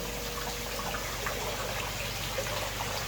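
Shower spray from a koi pond's water feature splashes steadily into the pond, a continuous close hiss of falling water with no pauses.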